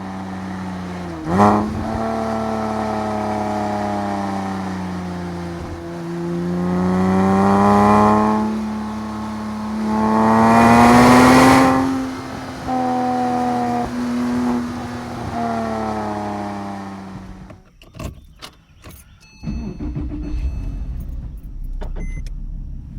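A 2007 base Porsche 987 Cayman's combustion engine pulls through the revs from inside the car, its strong harmonic drone rising and falling with acceleration and shifts, then dropping away to quieter clicks and low rumble at the end.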